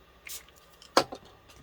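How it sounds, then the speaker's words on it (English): Metallic spray paint hisses onto magazine paper in two short, quiet bursts, the first brief and airy, the second slightly stronger, with near silence between. "I'm just going to spray little areas with this metallic spray"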